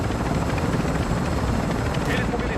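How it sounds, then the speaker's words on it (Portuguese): Hostile helicopter in a Call of Duty match, its loud, steady rotor thrum and engine roar filling the whole stretch continuously, close and unbroken. "Atirador de helicóptero hostil na AO."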